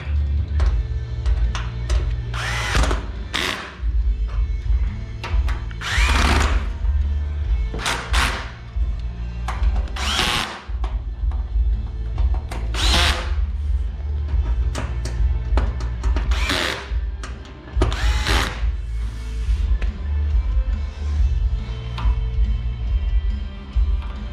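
Power drill driving screws into an audio rack in a Nissan NX300D, heard as repeated short whirring bursts over a steady low hum, close and loud with no talk.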